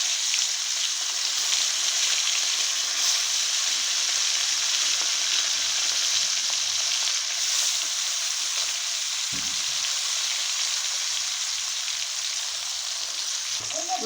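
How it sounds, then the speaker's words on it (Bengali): Hilsa fish pieces coated in salt and turmeric frying in hot oil in a wok, giving a steady, loud, hissing sizzle that runs unbroken, with a few faint clinks near the end. "এখন মাছগুলো ভেজে নেব।"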